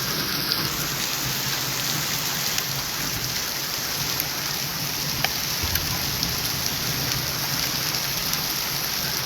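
Heavy rain pours steadily over Tangmarg in Baramulla district, a dense, unbroken hiss of downpour close around with faint low rumbles beneath, no voices heard.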